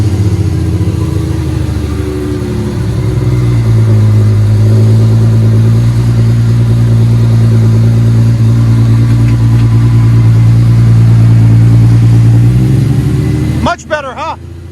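A 2003 Ford Mustang 3.8 V6 with long tube headers and Magnaflow exhaust holds a loud, close, sustained engine drone that climbs a little and stays steady before cutting off abruptly.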